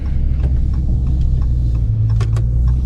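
A Dodge Charger R/T with a 5.7 Hemi V8 and a muffler delete rumbles steadily from inside the car while driving, a loud, constant low drone with faint clicks over it.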